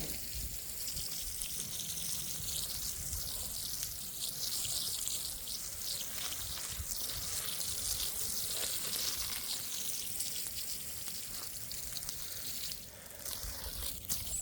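Steady hiss of water spraying from a hose onto garden seedlings in a backyard organic garden, continuous and fairly close with no pause.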